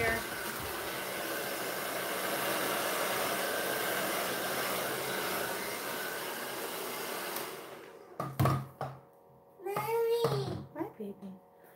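Air is blown over wet paint on a canvas, a steady breathy rush that runs for several seconds before stopping, followed by a few short bursts of nearby voices.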